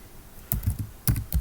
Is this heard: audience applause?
no